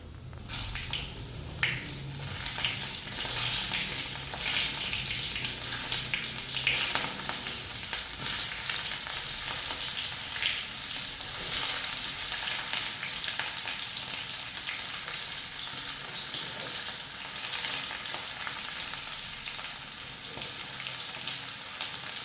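Chopped shallots fry and get stirred in a pan for a beetroot pachadi, a dense continuous sizzle with scraping stir strokes, loudest in the first seconds then settling into a steady crackle.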